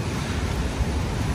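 Strong wind during a heavy rainstorm, buffeting a balcony as a dense, steady roar with low rumbling gusts, close and loud, with no voices.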